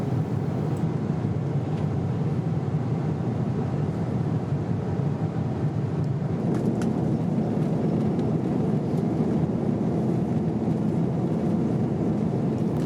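Steady broadband airliner cabin roar on a flight bound for Dubai, a constant low engine and air hum filling the whole stretch with no voices.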